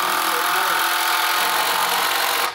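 A power drill drives long 3-inch screws into wood while a round bale hay feeder is being built, a steady loud whir held close for a couple of seconds before cutting off.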